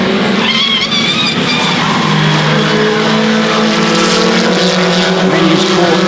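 WTCC touring race cars, including a Volvo Polestar, Chevrolets and BMWs, racing at Donington Park: loud, continuous engine roar with rising and falling revs as several cars pass close together, and commentary-like voices faintly underneath.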